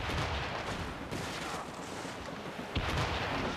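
Warship cannons boom in a naval battle in Assassin's Creed Rogue as a dense, continuous rumble of firing and explosions with one sharper blast near the end, heard without any speech.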